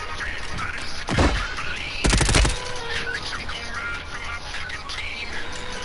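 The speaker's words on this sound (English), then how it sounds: "Watch them dodge all my grenades." Gunfire and grenades in Warzone 3 sound as two loud, punchy bursts, one short blast and then a quick rattling volley, before fading back into a low, busy in-game background.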